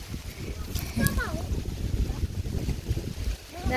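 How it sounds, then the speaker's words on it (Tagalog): Strong wind buffets the microphone in a steady roar over a rice field, with voices talking faintly underneath. "Ang lakas talaga ng hangin."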